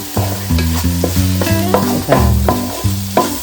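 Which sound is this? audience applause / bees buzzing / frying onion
frying onion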